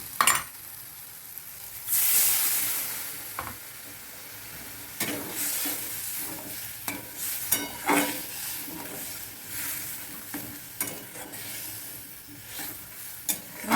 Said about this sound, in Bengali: এবার আমি এক বাটি জল দিয়ে দিচ্ছি